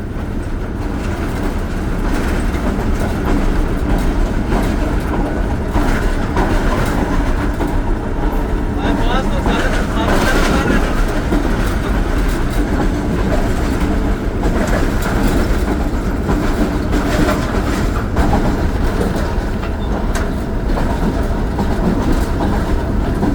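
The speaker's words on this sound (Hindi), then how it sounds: "हारो ब्रिज ट्रेन पास कर रही है।" The Thal Express passenger train crosses the Haro river bridge, a continuous loud rumble with rhythmic wheel clatter heard from aboard, with a voice talking over it.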